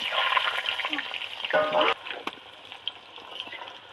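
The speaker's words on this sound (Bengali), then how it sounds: "এবার আলুগুলো তেলের মধ্যে দিয়ে করে ভেজে নেব" Potato pieces fry in hot oil with a pinch of turmeric, giving a soft steady sizzle. A brief loud crackling burst flares midway, then settles back to a quieter frying hiss.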